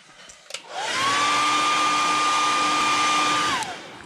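A hair dryer blows on a freshly painted fishing lure, clicking on and then roaring steadily at close range with a whining motor tone for about two and a half seconds before spinning down.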